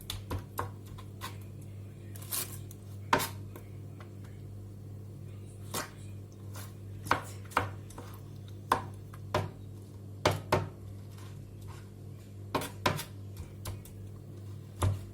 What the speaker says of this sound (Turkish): Papya biberlerimiz. Onları doğruyoruz.